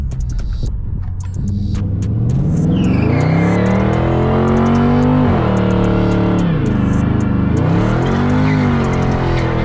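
A 2020 Dodge Charger 392 Scat Pack Widebody revs hard in track mode, its loud V8 rising and falling through several throttle blips after a brief rumbling start, close by and with no talking.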